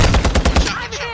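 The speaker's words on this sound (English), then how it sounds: "Luke is shooting." Rapid burst of video game machine-gun fire, a quick rhythmic string of loud, close shots lasting about half a second before fading into a short tail.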